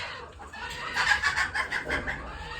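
A black hen clucks close by in a rapid series of short, rhythmic clucks that rise in the middle and continue to the end, heard alone with no talk.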